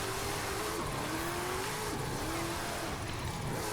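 DMC DeLorean in Forza Horizon 5 with its engine revving steadily through a sustained, slightly wavering drone, loud and continuous with no voices.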